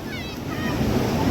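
Sea waves surge and wash onto the shore in a steady, noisy roar with wind buffeting the microphone, while people, including a child, talk faintly underneath.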